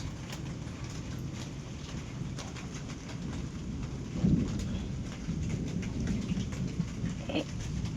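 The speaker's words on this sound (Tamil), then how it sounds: "இடி இடிக்கிற சவுண்டு கேட்குதுங்களா?" Steady rain patters throughout while a low rumble of thunder rolls in the background, with a brief swell partway through; faint and distant overall.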